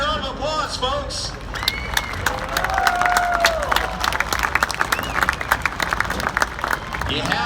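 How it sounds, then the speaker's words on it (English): Crowd applause and cheering at a diesel truck dyno event, sharp claps and shouts over babble while an announcer talks through it, with whistles rising above the noise. "Let's give him a big round of applause, folks"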